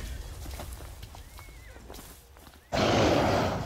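Horses in the game Final Fantasy XV neigh and step nearby, with scattered hoof sounds, then a loud burst of noise takes over abruptly near the end.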